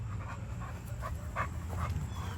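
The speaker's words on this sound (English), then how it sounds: "You chewing on sticks?" A dog pants steadily and close by while chewing on sticks outdoors, quick rhythmic breaths with small crunching bursts, heard alone without speech.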